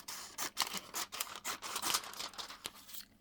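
Scissors snipping paper for a junk journal, a run of close, crisp cuts with slight paper rustle in between, no voices.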